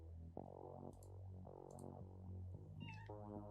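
A cat meows several times in drawn-out, wavering calls, close and fairly loud, over a steady low hum and some brief clicks.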